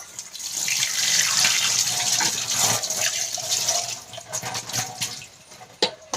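Water running and splashing steadily while clothes are washed by hand, a continuous close hiss with a few sloshing bursts, no voices.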